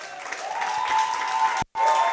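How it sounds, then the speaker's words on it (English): A workshop and expo audience applauds a speaker coming up to the stage, a short burst of steady crowd clapping with a brief dropout near the end. "may you please give him a round of applause"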